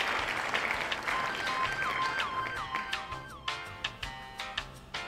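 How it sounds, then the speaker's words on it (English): A studio audience claps on the set of a children's educational show. The applause is dense at first and thins to scattered, separate claps, while sweeping tones play alongside. "Hear all that clapping."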